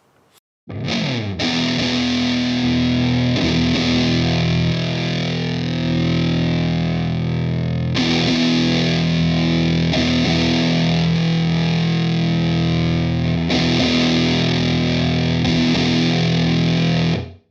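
An electric guitar played through a Sonicake Tone Group EQ pedal rings out loud and distorted, with sustained chords and a few restruck phrases spread across the passage, alone without speech.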